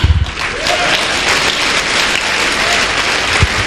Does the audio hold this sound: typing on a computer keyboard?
no